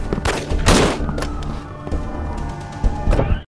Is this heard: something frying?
no